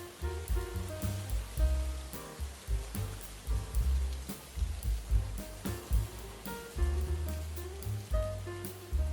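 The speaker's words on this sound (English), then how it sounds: "let's wait for the rain to do its magic." Rain patters steadily on a surface, with irregular heavier drops and thuds layered over a low rumbling background.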